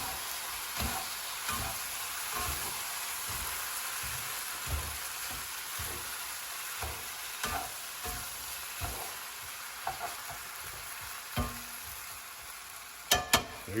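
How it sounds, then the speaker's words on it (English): Chicken noodles with cilantro tossed in a hot pan with kitchen tongs: a soft steady sizzle broken by regular light scrapes and taps of the tongs, ending in a couple of sharper clacks, quiet and close, no speech. "And using some kitchen tongs, just stir it all around."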